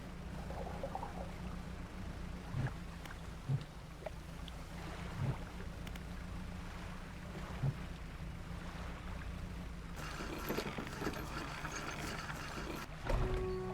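Small fishing boat engine in the video game Dredge drones low and steady over water and wind ambience, with periodic dull thumps and a rougher, noisier stretch near the end.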